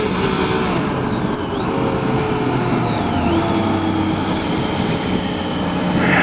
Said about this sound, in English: It's just got a growly 3-cylinder sound.